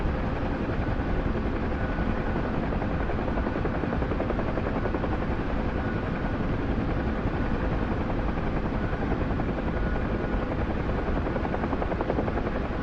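Steady helicopter rotor and engine drone, loud and continuous throughout, as if heard from inside the cabin, with no pauses or talk.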